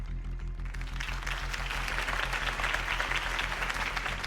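In a video game, a crowd applauds after Harvey Dent's campaign speech, a steady wash of clapping over a low rhythmic musical pulse, moderately faint and continuous.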